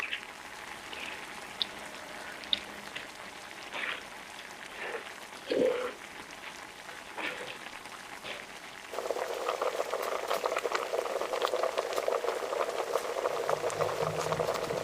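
Fried egg curry boiling in a pot, a soft bubbling and popping that turns louder and denser when the lid comes off, with faint clinks and bubbling throughout.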